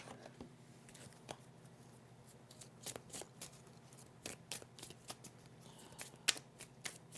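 A deck of tarot cards is shuffled and drawn by hand close up, giving quiet, irregular flurries of crisp card slaps and riffles with small sharp snaps, and no talking.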